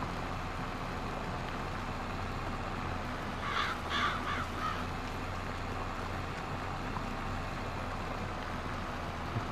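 A few crows caw in a short cluster in a Farming Simulator 22 field on the France map, layered over a steady low hum of farm machinery and ambient noise.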